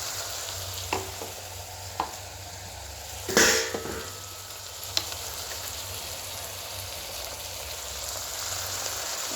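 A pan of eggplant curry sizzles steadily, and a few clinks and one louder scraping stir of a spoon against the pan rise above the frying, close up with no voices.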